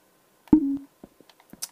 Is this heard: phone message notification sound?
yes